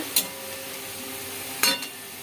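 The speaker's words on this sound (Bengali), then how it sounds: "নাড়া হয়ে গেলে পেঁয়াজটাকে একটু লাল লাল করে ভাজতে হবে।" Onions fry in a pan for a Bengali lota fish curry, a soft, steady sizzle broken by two sharp metallic clinks of a spoon scraping and stirring against the pan.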